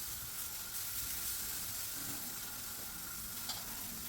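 Food sizzles and fries steadily in a hot pan, a constant close hiss with faint stirring, no voices.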